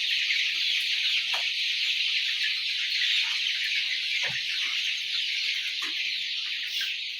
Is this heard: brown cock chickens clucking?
yes